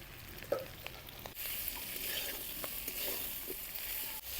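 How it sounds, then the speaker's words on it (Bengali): Chili powder and garlic frying in a pan as the base for a stinging catfish curry, a steady fairly quiet hiss of sizzling with a scrape of stirring near the start, no voices. "লঙ্কার গুঁড়াটা দিয়ে কিছুক্ষণ সময় ভালো করে ভাজে নিলাম।"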